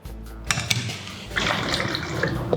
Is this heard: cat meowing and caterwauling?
no